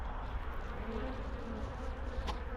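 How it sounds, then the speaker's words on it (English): Honey bees buzz continuously around a hive, a dense, fairly quiet drone of many insects with no speech. "these are violent bees"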